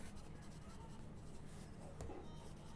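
Pen or pencil writing on paper during a Class 4 maths lesson on shapes, a faint continuous scratchy stroke sound at low level, with a brief sharper tap near the end.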